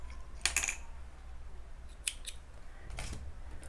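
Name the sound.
scissors cutting crochet yarn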